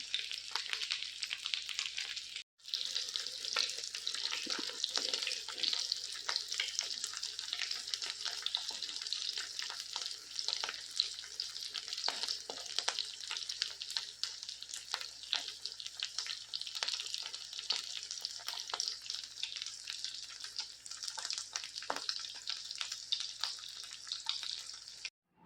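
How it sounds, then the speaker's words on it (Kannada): Mackerel coated in green masala sizzles steadily on a hot tava, a continuous close hiss and crackle of frying oil with no voices. "ಬಂಗುಡೆ ಗ್ರೀನ್ ಮಸಾಲಾ ತವಾ ಫ್ರೈ"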